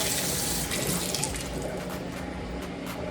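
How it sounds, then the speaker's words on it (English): Soaked grapes rinsed under a running kitchen tap, a loud, continuous rush and splash of water close by. "I will take my soaked grapes, give them a little rinse."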